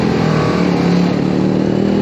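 A TVS Apache RR 310 sport motorcycle engine rises steadily in pitch as it accelerates, loud and continuous for the whole stretch, with no voices over it.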